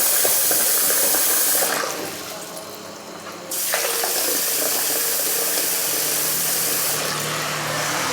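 Water pours in a steady loud stream, pauses briefly, then resumes splashing into a container until the end.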